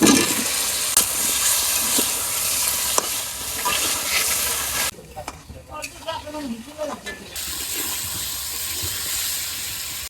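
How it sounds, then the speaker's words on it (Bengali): Potatoes fry in spiced masala in a village kitchen, a loud steady sizzle and hiss with stirring that briefly drops to quieter crackling and scraping before the full sizzle returns. "মশলা ভুনা হয়ে গেছে তাহলে আমি আলু দিয়ে দিব আলু দিয়ে দিলাম"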